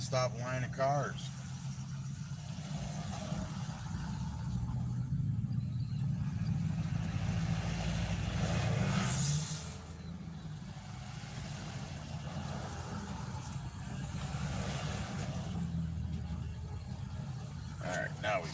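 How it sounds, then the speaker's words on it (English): Steady road traffic as a nonstop line of cars rolls past: a continuous, fairly close rumble of engines and tires that swells and eases slightly without any gap. "Jeez, it's a non-stop line of cars."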